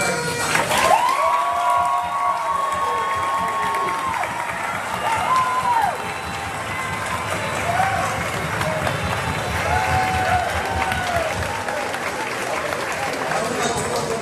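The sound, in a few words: audience applause for graduating class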